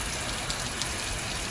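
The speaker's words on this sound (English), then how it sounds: "I wish I wasn't walking in the rain right now." Steady rain falls on a hiker on the Appalachian Trail, a dense, even hiss of drops all around with no voices.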